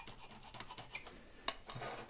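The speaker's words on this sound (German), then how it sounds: "So, werden wir es erstmal anreißen über die Diagonalen." A scriber is drawn across a metal plate along its diagonals while marking out parts for a welded DIY boat trolley, producing short scratchy rubs and one sharp tick at close range.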